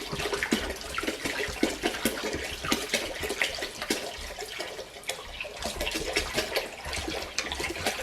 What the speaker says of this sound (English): Trying not to pour this in too fast so that it's not splashing all over the place.